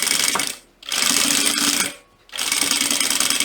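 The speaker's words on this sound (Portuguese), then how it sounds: "você já vai aproveitar e fazer a costura de segurança também aqui na" A sewing machine runs a safety seam along the base of a butterfly-shaped fabric pouch, its motor whirring in three steady bursts separated by two brief pauses.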